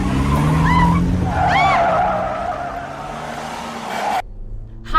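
Tires skid and squeal as a car slides hard during a high-speed police chase, rising pitched screeches over a loud engine roar for about four seconds before cutting off abruptly.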